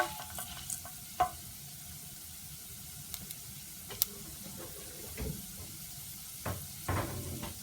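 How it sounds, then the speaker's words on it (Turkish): Quiet, intermittent scraping and clinking of a utensil slowly stirring rice for chickpea pilaf in a pot, with a few sharp taps and a soft background hiss. "yavaş yavaş karıştırıyoruz ve arada bir karıştırıyoruz"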